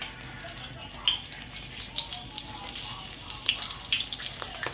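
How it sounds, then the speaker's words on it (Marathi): Green chilies fry in hot oil in a home kitchen after pav vada fritters, a soft crackling sizzle with scattered pops and light clinks, fairly close and steady. "त्याच्यासोबत आपण आता हिरव्या मिरच्या तळून घेऊया"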